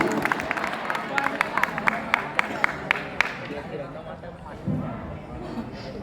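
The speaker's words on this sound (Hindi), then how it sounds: "एक बार जोरदार ताली हो जाए।" Scattered audience clapping at a college Republic Day celebration in Bilaigarh, a few distinct sharp claps over a busy crowd murmur that fades after a few seconds.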